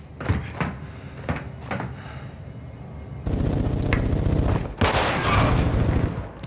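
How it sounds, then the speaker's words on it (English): Submachine gun fire in a first-person shooter, rapid automatic bursts: a few short sharp shots, then a longer continuous stream of fast rounds, loud and close. "This might be my new go-to submachine gun, man."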